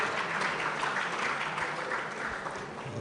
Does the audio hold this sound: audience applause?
yes